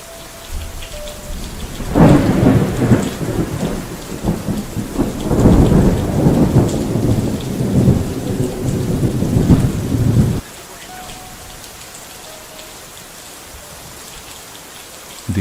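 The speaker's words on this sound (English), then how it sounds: "the noise you can hear in the background, well, it's the heavy rain" Heavy rain pours steadily, with loud dense bursts across most of the stretch before it drops abruptly to a quieter, even patter.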